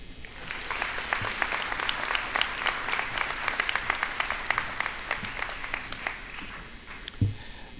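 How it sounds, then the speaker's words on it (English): Sustained audience applause at a Take Stock in Children awards ceremony, steady dense clapping filling the room throughout with no voices over it. "Could we please give Will another hand of applause"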